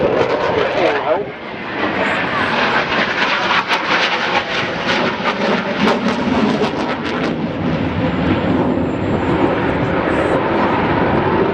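A Eurofighter Typhoon jet flying at the Farnborough Airshow, a loud continuous roar of engine noise filling the clip, with a commentator talking over it.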